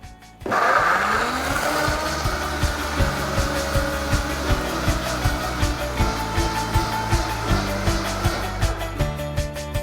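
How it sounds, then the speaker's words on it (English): A Vitamix blender runs on high speed at setting 10 blending a frosty basil limeade, a loud steady whirring roar that starts abruptly and holds with rhythmic pulsing as the contents churn, no talking. "Alright, finished blending."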